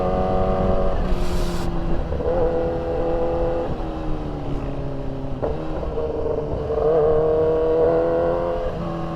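Motorcycle engine running steadily on a road between Sibuco and Sirawai, a loud continuous drone with shifting pitch as it changes speed, accompanied by wind noise and a brief rushing burst early on.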